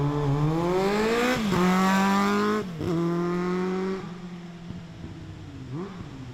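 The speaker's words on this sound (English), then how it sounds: "With the Vance and Hines, the thing sounds crisp." A 1986 Kawasaki ZX600A Ninja sport motorcycle with a Vance and Hines exhaust revs hard through rising pitches, drops sharply between gears twice, then settles into a lower, steadier drone as it eases off.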